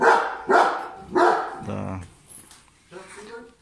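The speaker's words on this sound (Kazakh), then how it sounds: "Йома, мынандай ит көрдіңіздер ма?" A large dog barks loudly nearby in a few heavy, spaced woofs, then quieter sounds follow, with a person talking around the barks.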